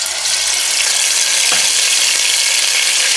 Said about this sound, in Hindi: सबसे पहले आप यहाँ पर तेल में डालेंगे हरी मिर्चों का पेस्ट,